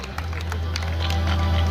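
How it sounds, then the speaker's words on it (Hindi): Audience clapping at the Mahi Mahotsav festival in Banswara, Rajasthan, a steady close burst of many hands with a low hum running underneath. "आश्रय सेवा संस्थान के लिए एक बार जोर से तालियां बजाएगा और बिंदु के लिए भी तालियां बजाएगा।"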